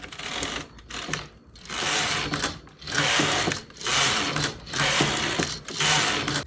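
A domestic knitting machine carriage runs back and forth across the needle bed at tension setting 6, a close, rhythmic mechanical clatter in repeated sweeps of about a second each, broken by brief pauses at the end of each row.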